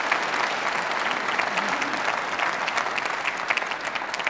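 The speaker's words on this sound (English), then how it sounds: "Another big round of applause" A lecture audience gives a big round of applause, dense and steady clapping from many people at moderate loudness, continuing evenly throughout.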